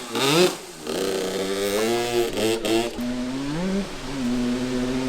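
Four-stroke pit bike engine on a pit bike track, revving up and down in several rising and falling pulls, close and fairly loud, with no talk.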